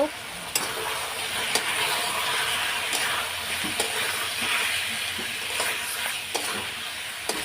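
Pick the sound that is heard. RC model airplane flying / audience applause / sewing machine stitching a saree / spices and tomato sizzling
spices and tomato sizzling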